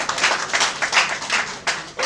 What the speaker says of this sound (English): So a round of applause to you all if you actively participated in the work